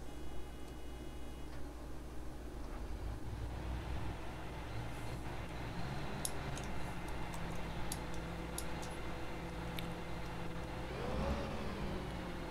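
A Ropa Euro Tiger sugar beet harvester in Farming Simulator 2015 starts up, its engine cranking and settling into a steady low diesel rumble with clicking and ticking on top, heard alone without talk.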